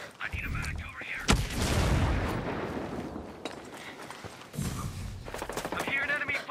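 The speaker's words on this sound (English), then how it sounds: "I'm hearing enemy fire." Gunfire in the tactical shooter Tom Clancy's Ghost Recon Breakpoint during a PvP match: sharp shots and bursts crack out over a steady rumble of battle noise, with voices talking through much of it.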